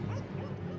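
Russian-European Laika dogs working a bear, giving a brief, close burst of sharp barking and yipping.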